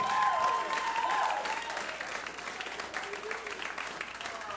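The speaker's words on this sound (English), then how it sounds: "Clap your hands and let him hear you." A comedy club audience claps and cheers loudly for an incoming comedian, a dense wash of applause that eases slightly but holds steady, with a voice and whoops mixed in.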